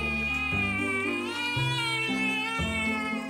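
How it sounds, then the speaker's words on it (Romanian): A cat gives a run of loud, drawn-out meows, about three or four insistent calls back to back, each bending in pitch, close and clear with no talk. "Un miaunat tare indică adeseori o cerere urgentă"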